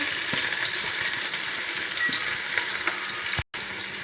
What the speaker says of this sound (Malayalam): ചോപ്പ് ചെയ്ത് വെച്ച് 2 സവാള നമുക്ക് ഇതിനകത്ത് ഈ ഒരു നെയ്യിലേക്ക് ഇതിലേക്ക് ഇട്ട് വെക്കാം